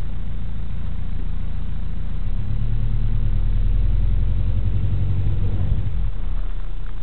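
Car engine idling in snow, its low steady rumble deepening slightly as the clutch is eased toward the biting point, close and continuous with no talk.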